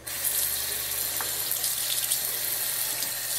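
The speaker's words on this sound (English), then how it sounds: "Then you want to get a little water flow going." A kitchen or utility sink tap runs in a steady, close stream of water while paintbrushes are rinsed under it, a continuous hiss and splash with no talking.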